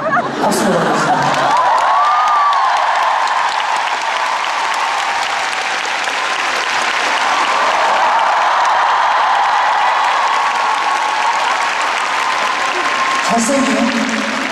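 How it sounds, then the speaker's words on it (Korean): Concert audience bursts into loud, sustained applause at a ballad and musical concert, steady dense clapping with some cheering and laughter mixed in, a voice speaking briefly near the start and again at the end. "박수 부탁드립니다."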